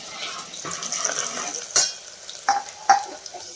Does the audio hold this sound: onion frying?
yes